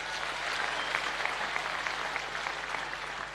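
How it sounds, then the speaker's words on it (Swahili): Crowd applause at a church service held in a stadium in Kerugoya, Kirinyaga County, a steady wash of clapping from a large congregation, sustained at moderate level throughout. "Mpigieni makofi."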